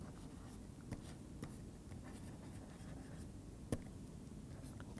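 Chalk or pen writing on a board during a mathematics lecture on periodic orbits, steady faint scratching strokes with a few sharper taps, heard alone without talk.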